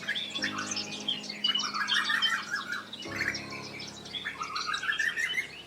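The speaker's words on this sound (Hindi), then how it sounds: "ऊंचे ऊंचे पेड़, लताएं, झाड़ियां और पक्षियों की चहचहाहट से वह जंगल हमेशा जीवंत रहता था।" Forest birds chirp and squawk in busy, overlapping bursts, loud and close, with two surges of calling separated by a brief lull over a faint background drone.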